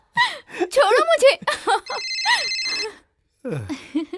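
Telephone ringing with a steady electronic ring burst, close and clear, between and under a woman's anxious speech in a horror film scene.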